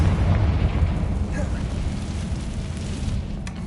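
Confringo blasting spell explosions in Hogwarts Legacy, a deep rumbling burst that fades into a crackling, rain-like debris wash, loud and close.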